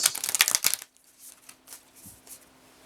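Oracle cards from a Moonology deck being handled and pulled, a close, brisk burst of papery riffling and flicking, then faint, sparse rustles and soft taps.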